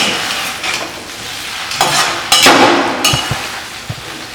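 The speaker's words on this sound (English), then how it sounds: "So here the masala is being mixed well." Masala for masala idli stirred in an old iron vessel: loud scraping and sizzling bursts with metallic knocks of the spoon against the pan, coming in irregular strokes close to the microphone, with no talking.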